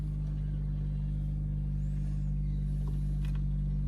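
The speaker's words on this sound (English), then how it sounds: "All right, car's on." A car engine idles with a steady low hum and drone, fairly quiet and continuous, with faint incidental noises on top.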